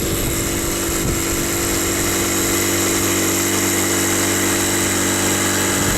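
A steady motorized hum of an electric air pump inflating a Flagman 330U inflatable boat, running continuously at an even, fairly loud level with no talking.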